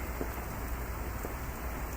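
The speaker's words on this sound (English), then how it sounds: "Ooh, rain's blowing in." Steady rain blowing in over an outdoor grilling spot on a rainy day, an even hiss of drops on surfaces, fairly faint and continuous, with no talking.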